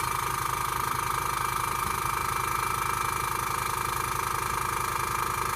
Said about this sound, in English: the compressor kicks in at 10 psi